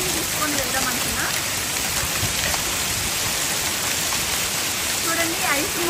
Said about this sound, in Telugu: చూడండి, ఐస్ ముక్కలతో వాన పడుతుంది.